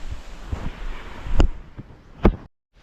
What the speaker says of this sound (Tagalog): Kaso malakas pang hangin